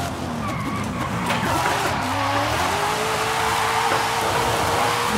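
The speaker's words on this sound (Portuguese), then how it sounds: "Minha nova BM aqui de drift, hein?" A BMW M2 drift car slides with a loud, sustained tire squeal that rises and bends in pitch over a continuous engine roar, close and dominant throughout.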